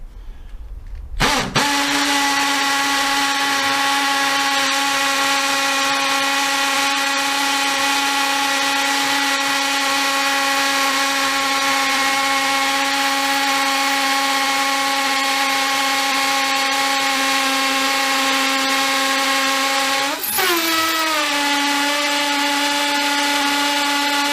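A Dewalt DCD776 18V cordless drill in hammer mode drills a 6mm hole into masonry, spinning up sharply and holding a loud, steady, harmonic whine with rattling hammer action for about twenty seconds before briefly bogging and recovering.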